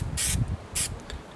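High build primer is sprayed onto the front fender of a 1956 Ford pickup in two short, close hissing bursts.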